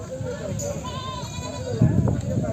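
A goat bleats in a long wavering cry close by at a livestock market, with people talking around it and a louder burst of noise near the end.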